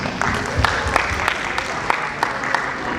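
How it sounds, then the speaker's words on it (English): Media members at a Mister International Philippines pageant press event applaud, a steady patter of clapping from a modest crowd with sharper individual claps standing out. "Give yourself a round of applause."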